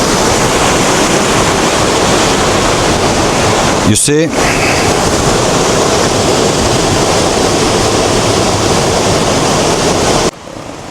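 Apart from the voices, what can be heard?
cold river water flowing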